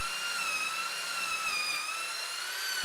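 A power drill bores vertically into wood for homemade Jeep ramps, a steady high-pitched motor whine holding an even tone throughout, close and loud with no speech.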